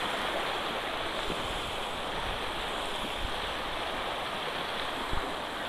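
A small waterfall stream in a monsoon valley in the Tamhini Ghat area rushes with a strong flow, giving a steady, dense roar of running water that holds constant throughout, with no voices.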